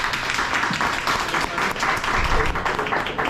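A brief burst of dense crowd clapping for a conference presenter at an Appalachian Studies Association session on race and health, steady and close, with faint murmurs underneath.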